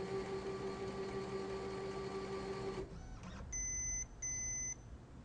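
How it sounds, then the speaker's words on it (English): Network printer beeping as it restarts: after a steady machine hum cuts off, two distinct electronic beeps sound close and clear, each about half a second long with a short gap between them. "We will now restart the printer for them to take effect."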